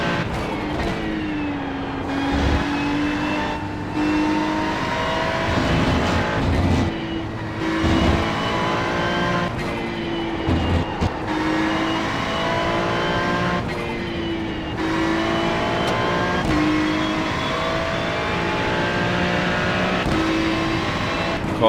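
A Ferrari GT3 race car in the iRacing sim at Sachsenring, its engine droning steadily with rising and falling pitch through gear changes and brief lifts, loud and continuous throughout.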